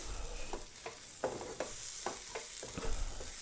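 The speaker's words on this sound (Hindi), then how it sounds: "अब हम सारे मसालों को अच्छे से भून लेंगे ताकि मसालों का कच्चापन निकल जाए" Whole spices being roasted in a pan, with a steady low sizzle and a series of scraping, clinking stirs at irregular intervals, close and moderately quiet with no voices.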